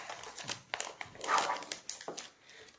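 A dog whimpers and yips in short bursts at close range, its sounds broken up across the moment with soft rustling in between.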